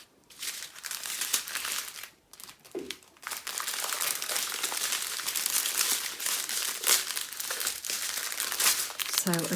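A plastic packet of diamond painting drills is snipped off and handled, giving continuous close crinkling and rustling with brief pauses over several seconds.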